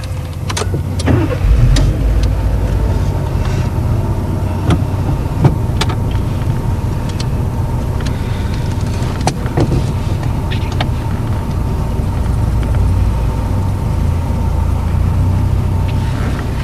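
A learner's car during a roughly thirty-minute driving test, its engine humming and revving steadily at close range, with a few sharp clicks and knocks from inside the cabin cutting through the continuous drone.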